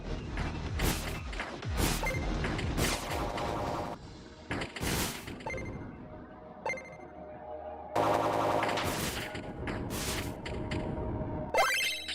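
A spaceship weapon blasting asteroids in the video game Star Survivor, loud bursts of firing and impacts in repeated clusters with short gaps, dense synthetic effects and no talk.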